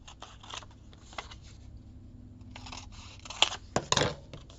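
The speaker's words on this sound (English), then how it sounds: "Okay, I'm going to cut this white border off." Scissors trim a white border off a sheet of paper, with soft crisp snips and paper rustling close by, ending in a few louder sharp cuts and crinkles.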